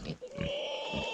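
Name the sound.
sow pig grunting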